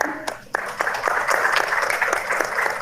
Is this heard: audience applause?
yes